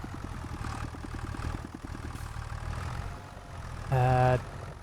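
Tractor engine idling in the video game Farming Simulator 25, a low steady chugging drone with a quick pulsing rhythm at first, followed by a brief loud tonal horn-like blast near the end.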